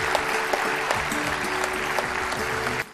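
An audience at a cultural festival applauds dancer Hema Malini, dense sustained clapping from a large crowd that cuts off abruptly at the end.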